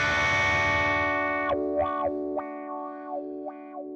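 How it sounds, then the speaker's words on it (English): An overdriven electric guitar played through a wah pedal, a sustained distorted note followed by notes sweeping up and down in tone. "You still get a nice articulate wah sound."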